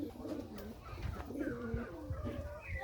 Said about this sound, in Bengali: কিছু কবুতর আপনাদের শখ করাবো